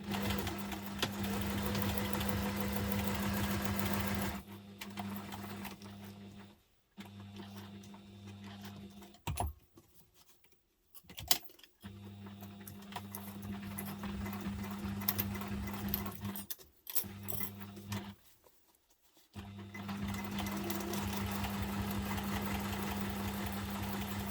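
Sewing machine stitching a messenger bag at construction stitch length, running in steady close bursts interrupted by several short pauses, with no talk.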